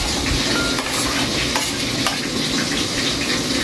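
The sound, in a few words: onions added to a hot pan, sizzling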